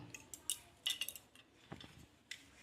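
A knife cuts ripe red tomatoes in half for homemade tomato sauce, making quiet, close clicks and taps of the blade against a board, spaced irregularly with short pauses.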